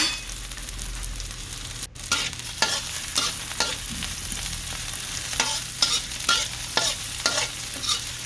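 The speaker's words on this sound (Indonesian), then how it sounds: "Tumis sampai bumbunya berbau harum." Chopped spice paste sautéing in a little oil for stir-fried bottle gourd with shrimp, a steady close sizzle broken by regular scraping stirs of a spatula, with a brief dropout near the start and no talk.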